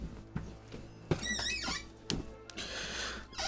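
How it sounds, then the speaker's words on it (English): A squeaky chair creaks and squeals several times in quick, irregular bursts, with thumps in between, heard close and clear while the player shifts around during a session of the South Park video game. "Me and my squeaky chair are on the way"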